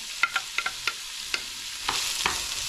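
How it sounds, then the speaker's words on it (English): Onions frying in a pan for Guyanese metemgee, with a steady broad sizzle and a series of sharp stirring clacks and scrapes spaced through the clip, close and fairly loud. "Get the onions in there."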